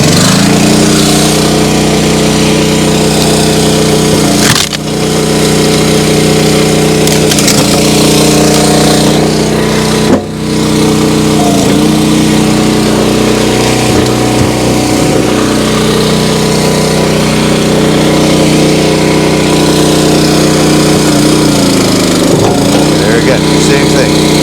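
Small engine on a vertical log splitter runs loud and close, a steady unbroken drone for the whole stretch with a couple of brief dips, and a voice is faintly audible beneath it.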